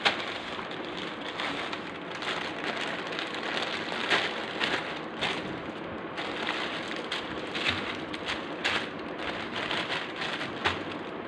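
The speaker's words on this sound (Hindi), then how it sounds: "इतनी तेज़ बारिश थी" Heavy rain pours down steadily, a dense continuous hiss of drops drumming on surfaces with occasional louder splatters, no voices.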